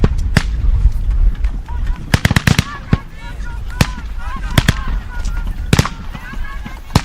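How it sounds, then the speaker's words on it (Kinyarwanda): Sharp gunshots crack out in the middle of combat as an enemy keeps firing, some single and some in quick clusters, loud and close. Scattered voices and shouting run underneath the shooting. "Umwanzi akomeje kurasa, yaryohewe no kurasa"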